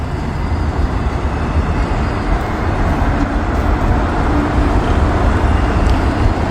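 A long autorack freight train passing near a road crossing after a snowfall, its heavy rolling rumble loud and steady with faint clanks of railcars and no talking.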